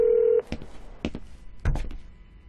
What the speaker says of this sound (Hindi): उसे फोन लगाते रहो।